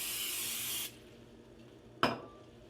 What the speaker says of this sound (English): Spray your casserole dish or line it with aluminum foil if you're using a sheet pan.